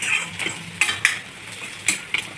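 Ginger paste frying in a pan for egg masala, a low sizzle under intermittent scrapes and light metallic clinks of a utensil stirring against the pan.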